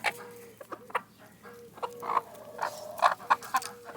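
Hens cluck in short, scattered bursts at moderate distance, with a few sharper squawks rising near the end over a low background hum.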